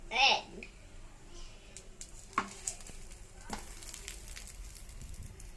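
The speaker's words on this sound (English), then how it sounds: "Now time to toast the bread." Bread toasting in oil in a pan for a bread omelette, a soft continuous sizzle with scattered utensil clicks and scrapes, while someone talks over it.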